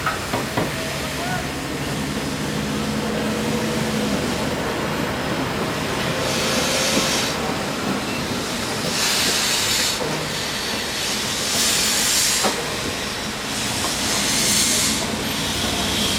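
A Pacific steam locomotive departs with a powerful exhaust bark, heard as repeated loud bursts of steam and hiss over a continuous rumble, fairly close, with rail noise underneath.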